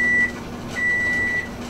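Kitchen timer signalling that canning jars are done: two steady, high electronic beeps, a short one followed by a longer one, clear over quiet room background.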